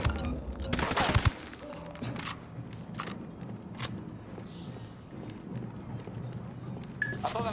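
Gunfire in the video game Ghost Recon Wildlands: a dense, fairly quiet volley in the first second and a half, then scattered distant shots over a low rumbling background.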